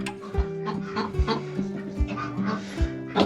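Several chickens in a mixed flock cluck and murmur close by inside a coop in a steady, overlapping chatter, with occasional louder squawks.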